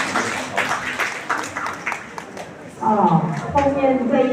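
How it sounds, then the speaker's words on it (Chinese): Congregation applause in a church during a Christmas worship service, broadband clapping for a few seconds that gives way to someone speaking over a low hum. "再一次热烈的掌声"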